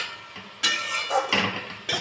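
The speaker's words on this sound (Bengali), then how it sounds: "দিয়ে ভালো করে আমি নেড়ে নেব" A metal spatula clanking against a pan while stirring potato fry with poppy seeds, several distinct scraping clinks at uneven intervals, close and moderately loud.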